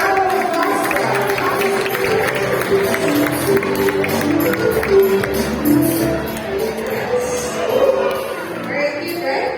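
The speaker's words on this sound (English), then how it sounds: "how about we give a big round of applause for our" A crowd at a bird show in Dubai Safari Park claps and cheers, a mix of scattered applause, murmuring and occasional shouts and whoops from a nearby audience, with some talk blended in.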